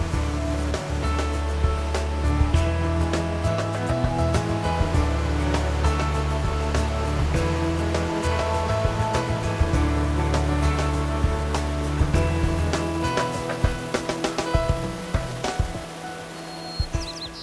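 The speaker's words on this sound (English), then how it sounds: "During spring runoff and times of heavy rain, the true power of the river shows" The Exploits River rushes hard during spring runoff, a dense continuous roar of churning whitewater that stays loud and steady throughout.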